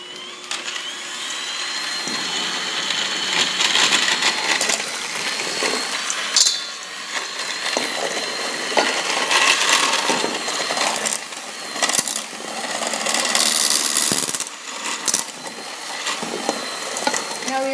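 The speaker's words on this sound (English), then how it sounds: "Now I'm going to stir it around." Thick coconut besito de coco mixture being stirred in a pot, a close, continuous scraping and sloshing with irregular knocks and surges, loud and alone.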